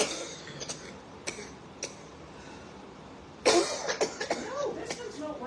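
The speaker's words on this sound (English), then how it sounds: "Coughing." A person coughs indoors, a few short isolated coughs followed by a louder cluster of harsh close coughs with faint talk around them.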